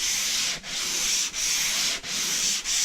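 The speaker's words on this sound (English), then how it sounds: "So what I do is I sand the top where the mud meets the old paint." Sandpaper is worked by hand over dried drywall mud where it meets old paint in a flooded basement repair, making a loud, close, steady rasping in long strokes with brief pauses between passes.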